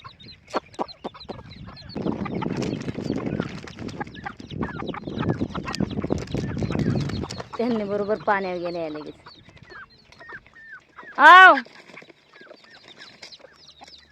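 Two-month-old chicks and hens heading to water amid steady clucking and cheeping, with a louder squawk near the end while someone speaks in Marathi nearby.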